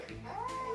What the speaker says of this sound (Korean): 고양이 구출 유튜브.